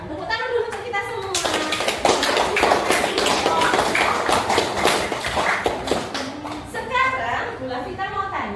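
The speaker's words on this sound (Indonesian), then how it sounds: "Tepuk tangan dulu untuk kita semua." Students in a classroom clap together in a sharp, rhythmic burst of close hand claps lasting several seconds, framed by a teacher's voice speaking before and after.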